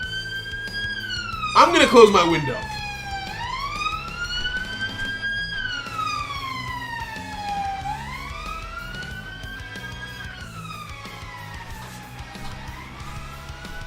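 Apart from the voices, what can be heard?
car siren wailing outside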